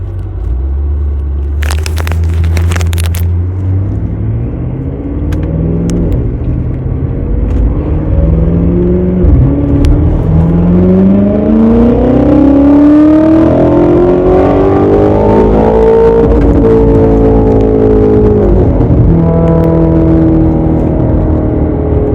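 A tuned BMW all-wheel-drive car on a dry road revs its engine and accelerates, a loud, close, continuous roar whose pitch climbs steadily through the gears, with brief crackles near the start.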